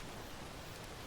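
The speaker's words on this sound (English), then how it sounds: "Oh, and it's raining." Steady rain falls in the video game Contra, a dense even hiss of drops hitting a surface, continuous and unbroken for about a second.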